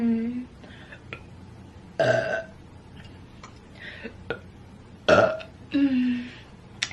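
A dressed-up woman lets out a few burps at uneven intervals, close and moderately loud, with small throaty noises between them.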